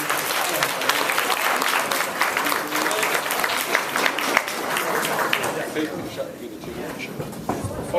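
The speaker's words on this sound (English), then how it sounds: "Give him another round of applause, please" A debate audience at a university citizenship event gives sustained, dense applause that carries on for several seconds, with voices mixed in underneath.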